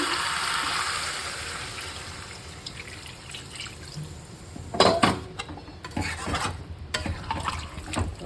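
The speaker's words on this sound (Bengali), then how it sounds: "এবার জল দিয়ে দেবো।" Water is poured into a pot of cooking meat curry, with a soft background hiss followed by a splashing, gurgling pour and light clinks of the pot midway through.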